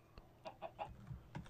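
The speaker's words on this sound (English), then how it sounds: "Or is that a pheasant? That's a pheasant." A pheasant in the TFC video game gives a quick series of soft clucks, several short calls in an uneven rhythm, faint against a low background.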